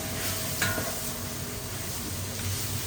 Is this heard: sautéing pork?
yes